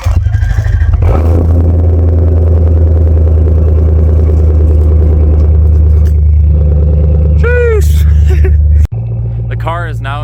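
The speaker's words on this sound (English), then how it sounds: "here's a little bit of a cold start" A 1991 Lexus LS400 engine heard at the exhaust during a cold start, with a loud, close, steady fast idle and a rumbling exhaust note, then a sudden drop to a lower idle near the end, with faint squeaks.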